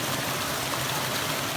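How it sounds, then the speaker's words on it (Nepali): A large waterfall in the mountains of Bulgaria roars in a steady, even wash of falling water, continuous and unbroken for a brief moment. "बुल्गेरियाको एकदम ठुलो झरना आयो"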